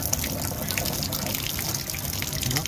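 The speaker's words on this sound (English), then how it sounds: "I'm gonna go Teflon tape and put up the shower head and test it out" Water streams steadily from a newly fitted shower head fed by a Rinnai V65iP tankless water heater in an off-grid home, making a continuous close hiss with no talking.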